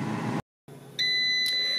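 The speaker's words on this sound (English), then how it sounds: "The timer is going off." An air fryer timer beeps with steady high electronic tones, coming in after a short silence and holding loud and clear near the end.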